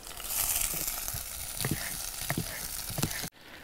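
Tomato pieces sizzle and fry in a cazuela while being cooked for nopales, with a steady close crackle and a few scraping stirs before the sound cuts off sharply near the end.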